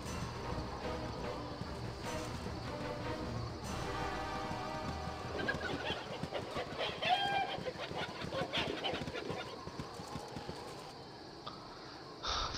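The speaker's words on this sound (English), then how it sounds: "Let's return to the chicken." A chicken in the video game Baldur's Gate clucks in scattered bursts over a busy, steady game soundscape that runs without pause.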